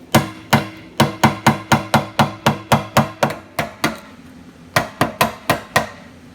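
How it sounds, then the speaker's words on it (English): A nylon hammer strikes a piece of brass to tap loose the fuel pump locking ring on a 1988–1995 GMC/Chevy C/K truck, about twenty sharp, close knocks in a fast even rhythm with one brief pause. "I'm using this piece of brass and a nylon hammer."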